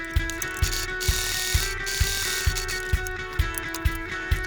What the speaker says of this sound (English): I'm just gonna sew this closed real quick